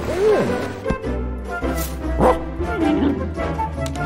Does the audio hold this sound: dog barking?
yes